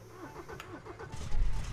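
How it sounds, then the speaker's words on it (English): In a junkyard truck video game, a car engine cranks over with a quick, rhythmic sputter and catches into a low rumble, short and fairly quiet. "Let's turn on the car."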